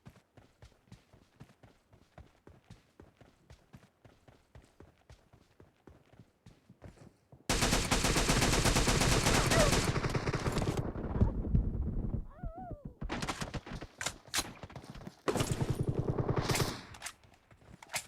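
DMR auto fire in the mobile game PUBG Mobile: rapid, loud bursts of gunshots cut in sharply after a stretch of light ticking footsteps, then further bursts follow with short gaps between them.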